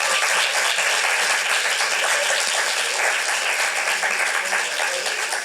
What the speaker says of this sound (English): Let's give all of our playwrights a round of applause.